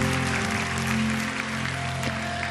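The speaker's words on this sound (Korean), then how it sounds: "우리 하나님께 큰 영광과 감사의 박수 올려드리겠습니다." Congregation applauding during a late-night Holy Week worship service in a Korean church, a steady dense wash of clapping over a sustained organ or keyboard drone, with no talk.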